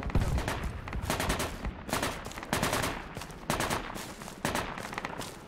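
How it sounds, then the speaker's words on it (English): Friendly soldiers firing in the video game Project Reality, repeated bursts of automatic gunfire in clustered volleys, fairly distant and moderately loud, with no talking over it. "The friendlies are shooting it up"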